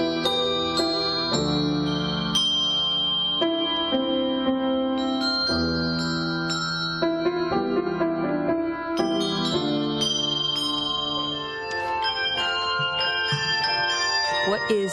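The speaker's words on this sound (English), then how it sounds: "she has 4 columns of bells hanging on a tree, over 3 octaves of bells" A bell tree holding four columns of handbells spanning over three octaves rings out in a sustained, overlapping melody of bright metallic tones that rise and decay continuously without pause.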